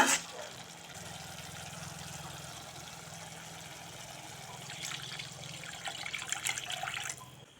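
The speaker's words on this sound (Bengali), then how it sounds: "এখন সামান্য জল দিয়ে দেবো" Water is poured into a pan of oil-released fried masala while cooking rui fish curry (kalia), giving a steady, moderate splashing and trickling wash that swells toward the end.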